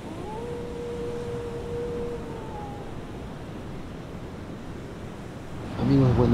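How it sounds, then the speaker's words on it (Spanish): Steady broadband wash of sea surf rolling in at night by a rocky shore, with a faint tonal whine early on and a brief voice or animal sound at the end. "Escuchen cómo suena el mar."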